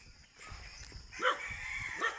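A dog barks a few times at moderate distance, short sharp yaps over quiet outdoor background noise, with no one speaking.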